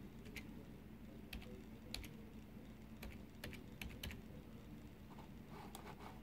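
Password being typed on a Samsung Galaxy S7 touchscreen, a sparse series of about a dozen faint, sharp taps spaced irregularly over quiet background hiss.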